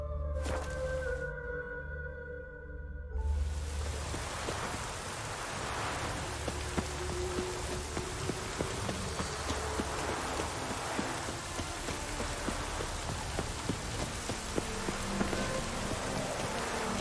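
Steady rain falls in The Witcher 3: Wild Hunt, a soft continuous hiss of drops on surfaces that takes over after a short burst of music and keeps going evenly, faint and alone.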